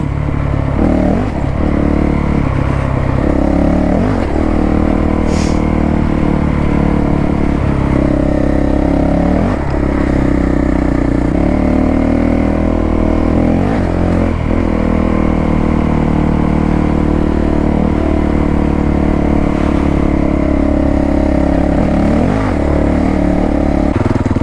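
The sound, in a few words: CRF450L motorcycle riding on a fire trail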